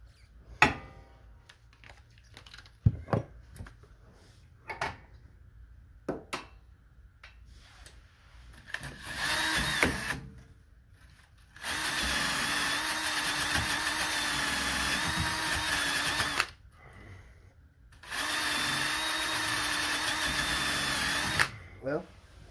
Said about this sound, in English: we got half of it with the drill